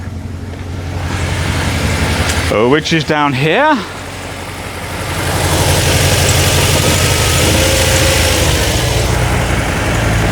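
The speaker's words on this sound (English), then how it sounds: "This engine doesn't sound healthy, but it is nonetheless running." A car engine with very low compression idles roughly and loudly throughout, a steady rumbling drone, with a brief spoken phrase partway through.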